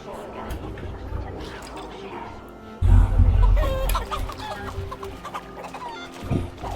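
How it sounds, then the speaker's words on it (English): Chickens in the video game Assassin's Creed Valhalla, clucking in short bursts beneath a thumping low impact and other game sounds, while people talk over them. "What are we doing to the chickens?"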